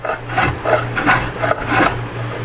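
A sharp woodworking tool rasps rhythmically across a carved wooden ball-and-claw foot for a Chapin high chest, catching on bumps in a series of close, scraping strokes.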